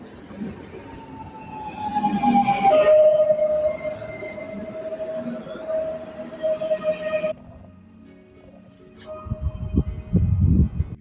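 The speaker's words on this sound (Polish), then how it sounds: "Wjeżdża pociąg Telka, kormoran ze stacji Olsztyn Główny do stacji Polanica drugiej Katowice" A passenger train rolls into Radomsko station with a long, steady squeal of wheels and rumbling carriages, then fades before another rumble rises at the end.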